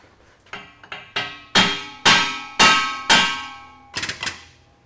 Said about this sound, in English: We get our caveman hammer and chisel.